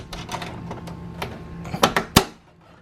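Plastic D clips are pushed into the holes of a Ralliart Evo hood scoop, giving a run of small clicks and rustles that build to three sharp, close pops near the end, with no talking.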